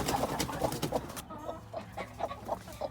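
A broody hen gives soft, repeated clucks and low murmuring calls in a steady rhythm, close and moderately loud, with no talking.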